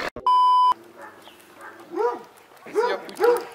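A dog gives three short, sharp barks or yips outdoors during a motorcycle Easter ride, following a steady electronic beep, with voices close by.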